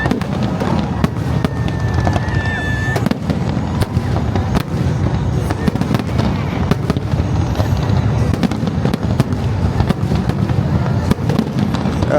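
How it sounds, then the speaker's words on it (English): New Year fireworks bursting near a beach on Phu Quoc island in Vietnam, a dense, continuous barrage of loud cracks and booms with a brief whistle early on. "we wanted to witness the New Year fireworks from that sea beach itself"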